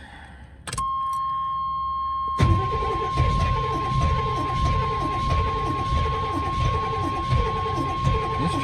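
A 1991 GMC Suburban 4x4 engine cranking and trying to run on fuel poured into the carburetor, starting after a warning chime and a click, then a continuous rough, uneven rumble with a steady tone beneath and faint voices.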